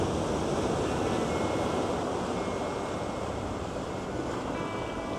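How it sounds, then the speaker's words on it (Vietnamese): Strong sea waves at a beach in Phan Thiet at low tide, a constant loud roar of surf with wind noise against the microphone and no voices. "Mặc dù là thủy triều nó ra xa nhưng mà sóng khá là mạnh."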